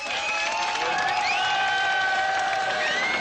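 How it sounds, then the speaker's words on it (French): A dense crowd at the Berlin Wall, where East and West guards meet, applauds and cheers continuously, with voices, whoops and whistle-like calls rising over the steady roar. "sous les applaudissements"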